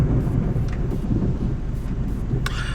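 Thunder from an approaching storm rolls as a deep, sustained rumble that fills the clip, loud and continuous, with a brief brighter crackle near the end.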